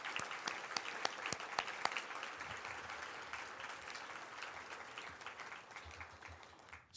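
Sustained applause from a dinner audience at a business hall of fame awards event, dense steady clapping with a few sharp, close claps standing out early on, fading slightly near the end.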